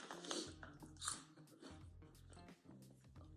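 Puffy, crunchy peanut air snacks from Trader Joe's are bitten and chewed close to the mic, giving quiet repeated crunches and mouth noises with faint background music underneath.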